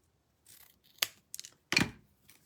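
Scissors cutting ribbon tails at an angle for a DIY door sign, several short close snips and rustles of the ribbon in a quiet room.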